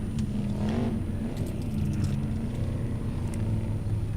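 Formula Offroad buggy engine revving steadily on a hill-climb course, a loud continuous motor drone filling the whole stretch.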